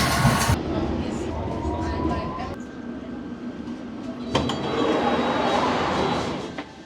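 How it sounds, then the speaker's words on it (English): A London Underground District Line train to Richmond rumbles and rattles along the tracks, with metallic clinks, a brief whine and faint voices in the carriage. "This is a District Line train to Richmond."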